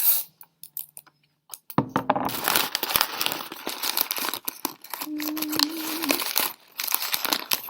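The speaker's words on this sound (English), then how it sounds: "I'm going to cover it with masking tape." Masking tape is torn and wrapped around a toilet paper food sculpture, giving close, steady crinkling and ripping noises with short pauses at the start, then continuous rustling throughout.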